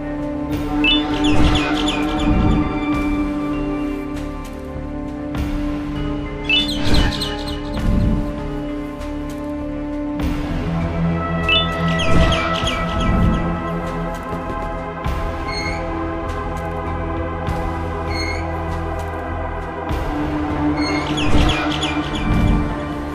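A bird boss in Garten of Banban gives shrill, tonal cries in bursts, calling again and again over a droning, eerie game music bed, loud and close with short pauses between calls.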